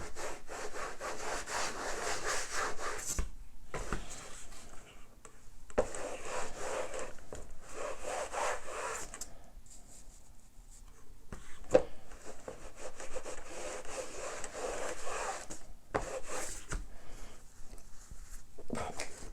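Fabric or a cloth pad is lightly rubbed back and forth over a cured acrylic pour painting to lift out silicone, giving close, steady scratchy strokes with brief pauses between passes.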